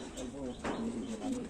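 Domestic pigeons, including Madras and home-bred birds, give soft low coos in a short burst close by, with faint rustling around them.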